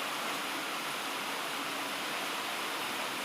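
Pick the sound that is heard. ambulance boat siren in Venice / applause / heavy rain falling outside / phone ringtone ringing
heavy rain falling outside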